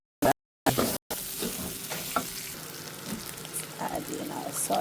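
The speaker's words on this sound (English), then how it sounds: "going to add our rice to it and toast it for a while" Rice toasts in a pan for vegetable fried rice, giving a soft, continuous sizzle with occasional stirring scrapes after a couple of abrupt cuts at the start, and no talk over it.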